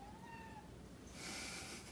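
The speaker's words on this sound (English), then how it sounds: "Oh, kitty." A pet cat meows twice in a short, clear pair of calls, close and alone with only faint room noise behind.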